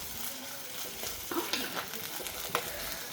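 Shallots and slit green chillies sautéing in a pan, a soft continuous sizzle close by, with light intermittent clinks and scrapes of a stirring spoon.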